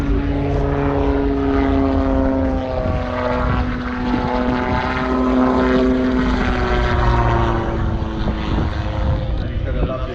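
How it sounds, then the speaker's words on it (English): Calidus autogyro engine and propeller drone loud and steady at an airshow in Ayr, Scotland, as the aircraft passes low before the crowd, holding a sustained buzzing tone throughout. "You can get down to about 30 feet during the Calidus auto gyro."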